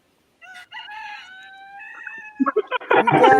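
A voice imitates a rooster's crow with a long wavering call, followed by a brief burst of louder, rougher vocalizing.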